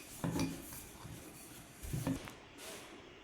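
A wooden rolling pin works flour-dusted parotta dough for a chicken-stuffed parotta, giving two short soft rubbing knocks against the board with a quiet pause between them, close by and with no talking.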